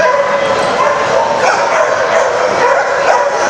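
A rescue pit bull named Bazooka Joe barks and yips steadily at close range, with excited, whining edges and a voice or two in the background.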